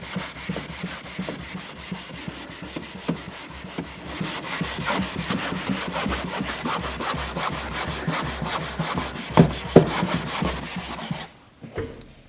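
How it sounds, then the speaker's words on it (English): Car body filler is sanded by hand in fast, even back-and-forth rasping strokes, loud and close, for about eleven seconds before stopping abruptly. "But the other stuff is a lot harder to sand."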